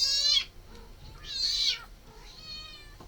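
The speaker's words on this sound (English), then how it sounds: "Any other name for that cat but Elvis?" A cat meows three times, two loud drawn-out calls followed by a softer, fainter one, with quiet room tone in between and no talking.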